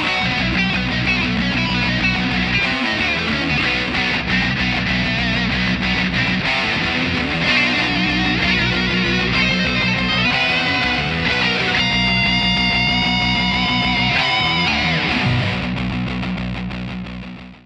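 Loud, dense electric guitar solo, played with distortion and moving major chord shapes. It runs steadily for nearly eighteen seconds with no speech before fading at the end.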